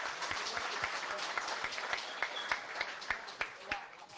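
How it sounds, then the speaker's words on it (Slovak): Audience applause at a live evening broadcast, a steady crowd of clapping with sharper individual claps standing out, loud and continuous, with a presenter's voice speaking over it. "Veľký potlesk."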